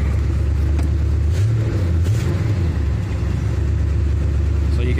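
A 1979 Chevy Nomad G10/G20 van idles in gear, its engine giving a steady low rumble while the van barely creeps backwards, with no loud revving.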